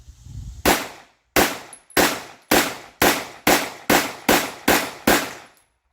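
A Girsan 1911C .45 ACP pistol fires nine loud, evenly spaced shots of aluminum-cased Blazer ammunition outdoors, each a sharp crack with a short decaying tail and brief ringing gaps between.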